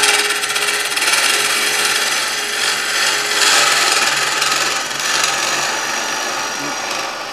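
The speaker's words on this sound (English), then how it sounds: "cutting right on the join there of the resin and wood." A woodturning tool cuts right on the join of resin and timber in a bowl from offcuts, producing a continuous close, loud rasping scrape that swells and eases over several seconds.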